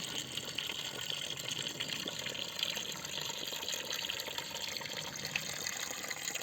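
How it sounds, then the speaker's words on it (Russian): Mountain spring water pours continuously from a pipe in Brzi Brod, Niš, Serbia, in a steady, rushing stream, close by and fairly loud, with no voices. "А здесь еще вот течет вода."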